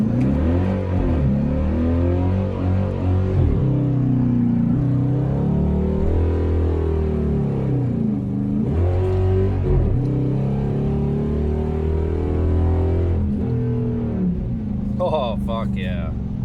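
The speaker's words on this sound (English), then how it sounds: "See what she does for a burnout now." A 5.7 Hemi-powered car holds a loud, sustained burnout with its rear tires spinning. The engine roars steadily close by, its pitch rising and dipping as the revs climb and fall throughout.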